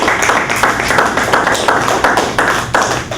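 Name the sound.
audience clapping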